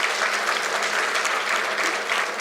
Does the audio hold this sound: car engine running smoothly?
no